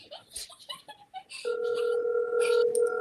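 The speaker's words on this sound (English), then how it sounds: "Yeah, I can hear that. You got a call." A phone rings with an incoming call, a steady electronic tone repeating after a brief stretch of soft background noises.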